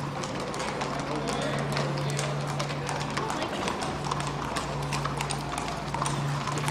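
Horse hooves clatter in a fast, dense rhythm on a trip in Spain, loud and continuous over a constant low hum, with no clear gaps between the beats.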